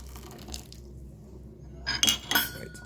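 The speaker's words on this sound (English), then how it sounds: "I'll just give it a quick rinse so it can open up while we talk" Water splashes and trickles over a compressed raw puerh tea ball being rinsed, with brief clinking of teaware against ceramic near the end, close and fairly soft after a quiet stretch.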